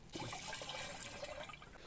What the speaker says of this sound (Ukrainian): Актофіт розмішуємо його і виливаємо в оприскувач.